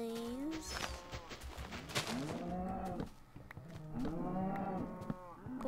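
Blocky Minecraft cows give several low, drawn-out moos in succession, moderately close and clear, with thumps and other game sounds scattered between them.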